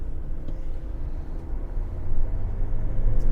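A 2021 GMC Sierra 1500 AT4 pickup on Wrangler Duratrac tires rolls along the road, a steady low cabin rumble and tire drone that swells slightly louder toward the end.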